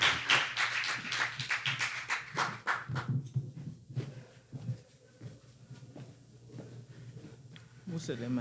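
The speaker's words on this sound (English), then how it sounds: "Give her a round of applause as she comes." Scattered hand clapping at an international women's empowerment forum in the Eastern Caribbean, a few seconds of uneven, fairly close claps that thin out into quiet room noise with faint movement and speech.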